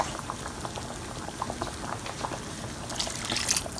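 A pot of vegetable soup with angel hair pasta simmering, giving a steady bubbling, gurgling wash with small pops, growing a little louder and more agitated near the end.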